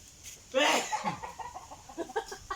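A few chickens cluck and squawk nearby in short, uneven bursts, one louder call standing out near the start.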